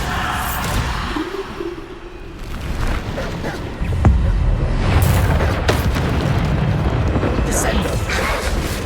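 A Bombarda explosion spell in Hogwarts Legacy, rendered as a deep booming burst with whooshing rumble and scattered impact pops, amid spell-casting shouts and game sounds.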